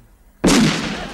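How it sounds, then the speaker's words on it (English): A sudden loud explosion bursts in after a moment of near silence, a sharp blast that settles into a rumbling tail. "They think explosions are funny."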